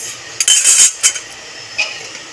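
A spoon clinks and scrapes against a pot while stirring curry after water and salt are added, a few bright metallic knocks and scrapes in quick bursts, close up, with no talk.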